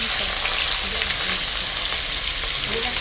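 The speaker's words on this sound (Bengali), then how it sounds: "এবার মাছটা ভেজে রাখি, কড়াইতে দিয়ে দিলাম।" Fish frying in hot oil in a wok (kadai), giving a steady, dense, close sizzle that runs unbroken throughout with no voices.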